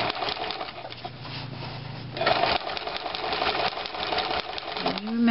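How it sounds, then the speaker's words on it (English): A sewing machine stitching fabric for a box cover top joined to its boxing strip, a continuous close whirring run of rapid needle strokes that speeds up partway through. "continue sewing."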